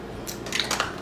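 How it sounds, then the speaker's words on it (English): Kat Von D Lock-It setting spray spritzed onto a damp beauty blender, a couple of quick, close hissy bursts within about a second. "Now I'm gonna take some Kat Von D Lock-It Spray. I'm going to spray it onto my damp beauty blender."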